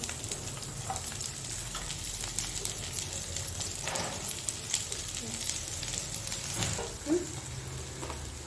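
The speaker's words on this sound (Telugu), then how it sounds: "ఆయిల్ అనేది హీట్ అయిపోయింది ఇప్పుడు ఆనియన్స్ వేసుకుంటాను" Onions frying in hot oil for egg puffs, a steady close sizzle with occasional crackles and pops and light stirring, with no voices.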